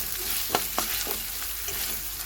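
Spices and chili being stirred and sautéed in a pan, giving a steady soft sizzle with a few sharp spoon scrapes against the metal.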